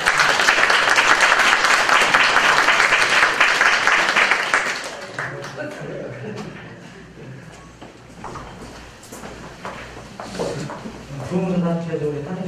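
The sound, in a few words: audience applause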